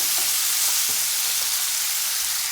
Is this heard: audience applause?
no